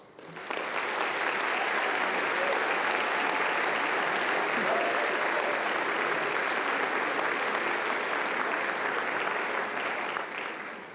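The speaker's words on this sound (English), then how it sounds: "And join me in a round of applause." Sustained applause from a large commencement audience at a spring university graduation ceremony, a dense steady wash of clapping that holds for about ten seconds and then begins to fade.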